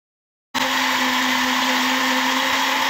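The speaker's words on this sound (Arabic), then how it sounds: "وامسكهم بقى اضربهم بقى ايه كويس في الخلاط" After a moment of silence, a blender mixing cake batter switches on and whirs loudly and steadily with a constant motor hum until the end.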